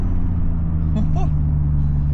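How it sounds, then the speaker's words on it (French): BMW 850csi V12 coupe under hard acceleration, a steady low engine drone filling the cabin with a brief exclaiming voice over it. "c'est une voiture, oh là là putain, ça décolle, la vache"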